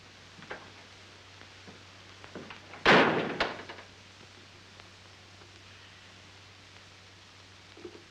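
A door shuts with a single sharp slam followed by a brief rattle in a 1935 film scene, standing out against a steady low hum and faint rustling.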